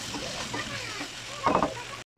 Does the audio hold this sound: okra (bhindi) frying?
yes